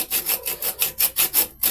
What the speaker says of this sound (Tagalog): Ay, umuubra itong lagari ah.